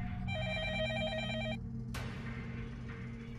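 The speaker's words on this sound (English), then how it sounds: "The phone rings." A telephone rings in the visual novel Fate/Stay Night, an electronic trilling ring that cuts off after about a second and a half, followed by a sharp click and quiet background music.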